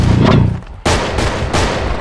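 Booming gunfire volleys from units in the strategy game Battle Realms, with two or three heavy cracks each followed by a rumbling tail, loud and close.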